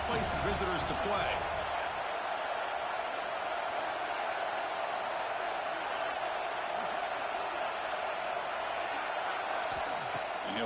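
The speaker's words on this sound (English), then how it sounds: "listen to this crowd noise. This stadium is vibrating." A football stadium crowd roars as a steady, dense wall of noise throughout, with some thuds at the start and a voice talking over it.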